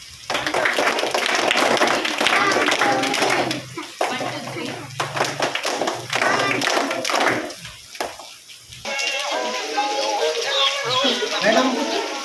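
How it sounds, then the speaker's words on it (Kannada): Audience clapping in thanks at a school event, loud and sustained for several seconds before tapering, with voices talking over and around the applause. "ತುಂಬು ಹೃದಯದ ಧನ್ಯವಾದವನ್ನು ಚಪ್ಪಾಳೆ ಕಟ್ಟುವುದರ ಮೂಲಕ ಅರ್ಪಿಸೋಣ"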